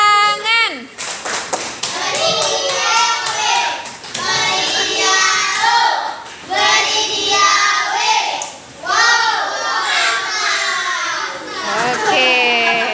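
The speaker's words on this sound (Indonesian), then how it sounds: "Oke, beri tepuk tangan." Children in a classroom clap their hands together in dense, sustained applause, with kids' voices mixed in and a brief lull partway through.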